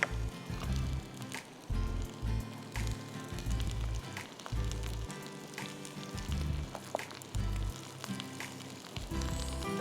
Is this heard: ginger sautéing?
yes